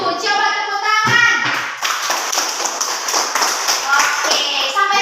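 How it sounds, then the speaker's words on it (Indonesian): Schoolchildren clapping hands together in a primary classroom lesson, a burst of bright, rapid hand claps following a child's sung or spoken line, with children's voices mixed in. "Coba tepuk tangan."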